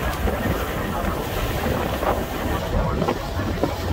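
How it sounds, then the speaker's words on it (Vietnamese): Strong wind buffeting the microphone on a ferry crossing Galveston Bay, a loud continuous roar and rumble with gusty swells throughout, likely mixed with engine and water noise. "Gió quá cả nhà ơi."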